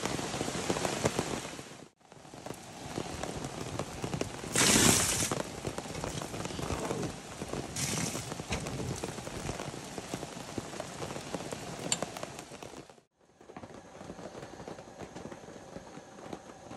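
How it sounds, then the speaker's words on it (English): Steady rain falls on a tent at a backwoods campsite at night, a dense continuous patter with brief breaks near the start and the end. "Well, it looks like another rainy night in store."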